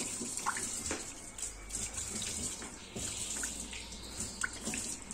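A kitchen tap runs steadily into a sink as soaking water is changed during Ramadan meal preparation, with a constant moderate splashing flow and occasional clinks.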